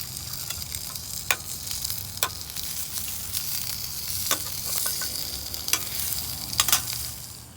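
Food sizzles and fries steadily in a pan over a camp stove while dinner is cooked at a campsite, with sharp ticks and clinks of stirring utensils breaking through the continuous hiss.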